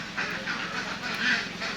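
Egg-laying ducks at a farm in Bueng Kan province, Thailand, quacking and chattering in a steady mixed chorus over continuous background noise, with no clear talk.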